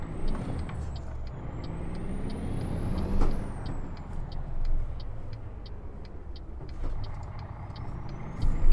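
Truck engine in American Truck Simulator, pulling away on a hill start in first gear, a low steady rumble with a hiss of air brakes and regular dashboard beeps over it, close and loud, no talk.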